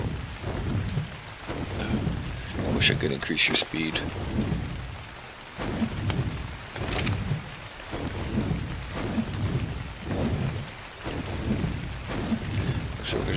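A stormy downpour in the video game Ark Survival Evolved: heavy rain hisses steadily while deep thunder rolls and cracks again and again, with someone talking over the weather.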